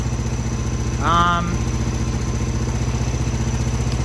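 A 1995 Craftsman LT4000 lawn tractor engine idling with an even, chugging rhythm, with a brief higher whine near the start.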